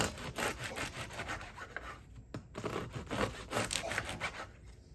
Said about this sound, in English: I think it's easier for me to not hurt myself if I cut it like this